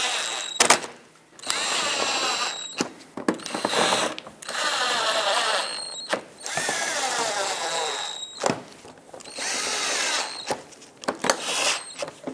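A power screwdriver drives screws back in on a 2014–2021 Mazda 6 while the windshield washer reservoir is being replaced, in a series of loud whirring bursts of a second or two, separated by short pauses.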